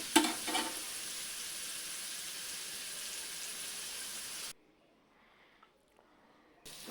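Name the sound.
chillies, onion, garlic frying in oil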